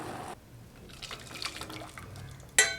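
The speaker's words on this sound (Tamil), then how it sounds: "வெள்ளம் நல்லா கரைஞ்சி கொதிச்சு வந்துருச்சுங்க" Jaggery syrup boils in a pot for puffed rice sweet balls, giving soft bubbling and dripping liquid sounds up close, ending with a sharp metallic clink.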